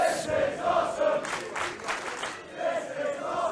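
A wrestling crowd at a tag-team title match roars and cheers in waves, with chanting voices rising and falling over a constant arena din and no clear single speaker.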